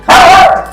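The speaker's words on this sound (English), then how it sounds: "That was my dog" A single loud, close bark from a pet dog named Tank, sharp at the start and trailing off quickly, heard indoors.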